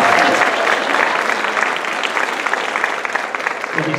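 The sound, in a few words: audience applause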